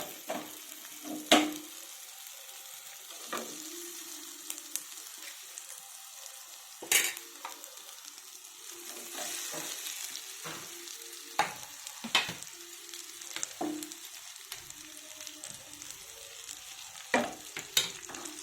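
Spices sizzle and crackle in hot oil, with sharp pops and a few clinks of a spoon against the pan, close by and otherwise quiet.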